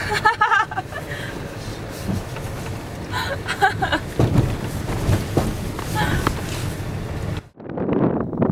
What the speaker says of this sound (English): Nice and windy up here on top of these rocks.